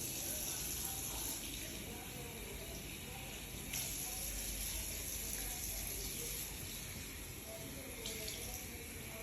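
Water running from a household tap into a sink while a child is being washed up for school, a steady broadband gush throughout, close by, with faint voices now and then beneath it.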